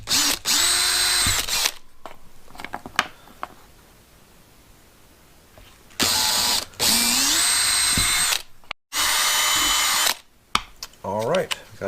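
A power drill bores holes for a homemade fishing rod truck rack. It whines in several loud, separate bursts with quiet gaps between them.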